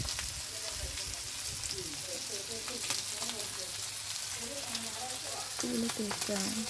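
Mullan fish fry in a pan with curry leaves laid on top, giving a continuous soft sizzling crackle with scattered pops, fairly quiet, and a faint voice sometimes audible beneath.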